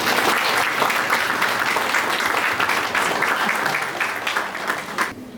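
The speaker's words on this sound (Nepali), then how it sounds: "ताली बजाइकन हामी यहाँ स्वागत गर्नेछौँ" Wedding ceremony guests applauding to welcome the pastor, a full crowd of clapping that holds steady and then thins out toward the end, close and loud without speech.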